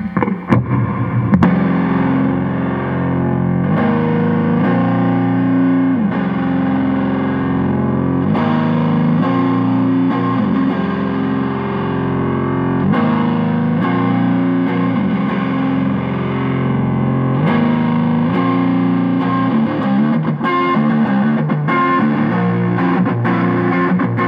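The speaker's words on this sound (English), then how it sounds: "We're also going through a 60s Fender Twin Reverb, starting off with that neck pickup." A PRS Standard 22 Platinum Metallic electric guitar, played on the neck pickup through a 1960s Fender Twin Reverb amp, rings out loud and continuous with sustained, reverberant chords and phrases and no voices over it.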